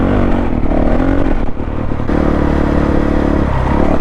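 Honda CRF450L or KTM 690 Enduro dual-sport bike on rough off-road terrain, its engine loud and close with revs surging and dropping amid clatter from the ride, no talking.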